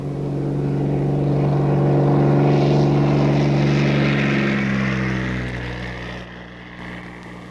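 A propeller aeroplane flies over a farm, its droning engine building to a loud pass overhead with a strong steady hum, then fading into the distance.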